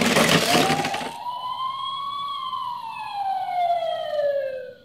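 An ambulance siren in a children's cartoon sounds a loud wailing tone that rises then slowly falls, following a brief burst of noisy clatter at the start.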